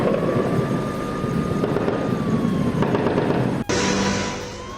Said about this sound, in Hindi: पहले वहां पे ड्रोन अटैक हुआ, आवाज सुनिए